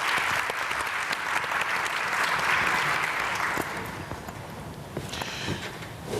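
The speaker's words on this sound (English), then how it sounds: "Let's give Shay a round of applause as well." An opening-session audience at an NAACP leadership event applauds for a school partnership manager, a dense, steady wash of many hands clapping that thins slightly toward the end.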